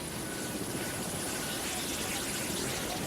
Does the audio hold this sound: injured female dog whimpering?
no